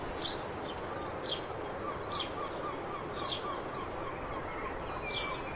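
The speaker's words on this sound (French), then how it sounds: "On a même le droit à une mouette." A seagull's calls ring out at intervals over steady outdoor spring ambience, with fainter songbird chirps in between.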